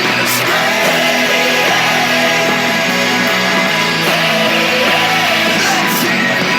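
Loud, dense stadium crowd screaming and cheering for the Buffalo Bills, a sustained roar with music-like tonal layers running through the whole stretch and no talk.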